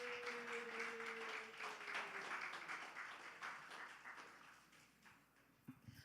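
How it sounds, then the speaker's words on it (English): Faint, distant audience clapping at a community meeting, with a low tone sounding near the start, gradually thinning out toward the end. "Clap it up for her, y'all."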